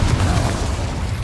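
A Confringo fire spell explodes in Hogwarts Legacy, a heavy low boom rumbling steadily through the short moment with no voices.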